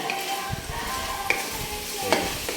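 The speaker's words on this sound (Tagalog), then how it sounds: "Tapos haluin na ulit." Chicken sinigang being stirred in a pot, with soft scraping and swishing under a low simmer and a couple of sharp clinks of the utensil against the pot.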